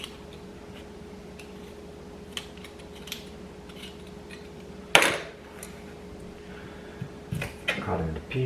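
A knife cuts peeled vegetables on a chopping board in a home kitchen, giving sparse light taps with one sharper clatter midway and a brief busier burst near the end, over quiet room noise.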